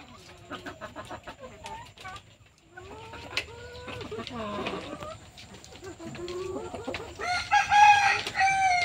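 Young chicken chicks in a brooder peep and cluck softly nearby, the calls growing into a busier, higher chorus of cheeping toward the end, with a voice faintly in the background.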